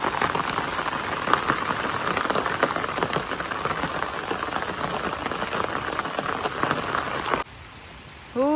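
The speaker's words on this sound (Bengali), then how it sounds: "পাহাড়ে প্রচুর বৃষ্টি হইতেছে" Heavy rain pours steadily over hilly village country, a dense continuous hiss that cuts out near the end, leaving a quieter stretch with faint rising bird-like chirps.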